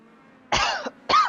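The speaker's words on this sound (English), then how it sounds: "Oh, coughing a bit here." Two close, loud coughs from a commentator during a Legend Car E-Series sim race broadcast at the Nürburgring Sprintstrecke, the first longer and rough, the second short and sharp after a brief pause.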